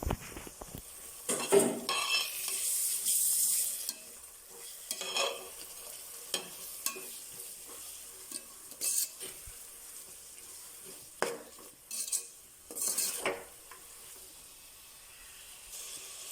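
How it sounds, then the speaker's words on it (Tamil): Ginger garlic paste sautéing in a pan for mushroom biryani: a soft continuous sizzle broken by repeated scraping stirs and clinks of a spoon against the pan, close by and without speech. "இஞ்சி பூண்டு பேஸ்ட்டு நல்லா பச்சை வாசம் போகிற அளவுக்கு வதக்கிக்கணும்"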